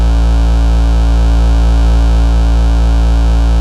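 A Cwejman SM-1 synth module clips under soft distortion, giving a loud, unbroken, buzzy tone thick with harmonics and holding steady throughout.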